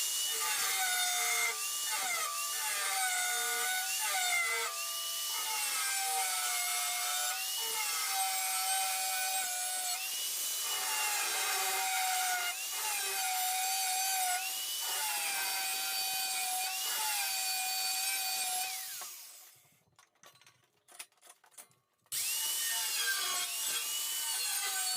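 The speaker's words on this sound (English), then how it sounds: "With the cutoff wheel, we're going to take our time, nice thin cutoff wheel, and we're going to slice each side, cut out the center." A thin cutoff wheel slices through a metal mini bike part, giving a steady high-pitched grinding whine with wavering pitch for about twenty seconds. It cuts off abruptly into a short near-silence, with a few small clatters, then resumes.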